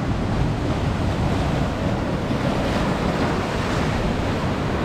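Ocean waves break and churn in a continuous loud roar of surf, with gusting wind buffeting the microphone and no voices.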